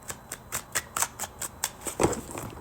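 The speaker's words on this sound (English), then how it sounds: "I'm gonna shuffle one more time." A deck of cards being shuffled, a rapid series of crisp riffling snaps and flutters close to the ear, fairly quiet with no talking.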